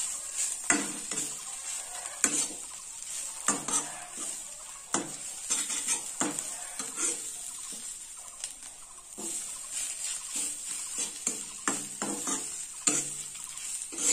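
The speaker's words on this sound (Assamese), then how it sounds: "পিঠা আৰু তিতা ফুলখিনি এনেকৈ মিহলিকৈ অকণমান দেৰি ভাজি ল'ব লাগিব" Pitha mixed with bitter titaful flowers being stir-fried in a pan, with soft scraping stirs and a light sizzle repeating in irregular strokes, close and fairly quiet, no talking.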